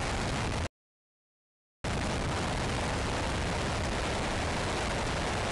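Powerful, continuous roar of a five-segment solid rocket motor firing during a static test, a loud broadband rumble that cuts out briefly, then resumes and holds steady.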